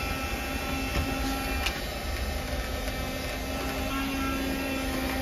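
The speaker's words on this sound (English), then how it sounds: "You turn it on and it really works like a vacuum." A Karcher WV 1 Plus window vacuum squeegee's small motor whirs steadily at close range with a constant high-pitched whine, uninterrupted throughout.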